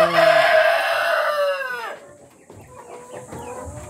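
Breeder chickens in a farm cage, a loud close rooster crow that rises and falls off, followed by softer scattered clucks and cage rustling.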